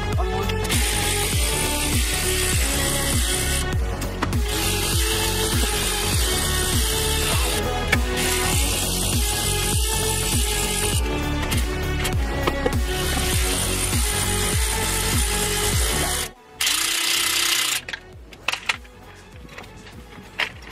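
A wrench ratchets loudly and steadily on a stuck car axle during a roadside engine replacement, with busy clicking metal mechanism noise for most of the stretch and a brief drop near the end.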